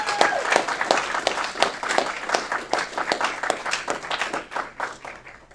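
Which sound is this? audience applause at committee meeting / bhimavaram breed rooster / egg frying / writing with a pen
audience applause at committee meeting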